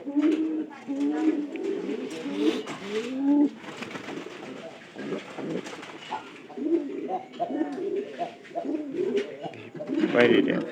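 Pigeons coo steadily in low, throaty rolls, several birds overlapping close by, with faint talk mixed in.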